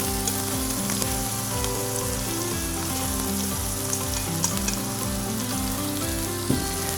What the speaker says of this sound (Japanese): そこにですねエビを入れます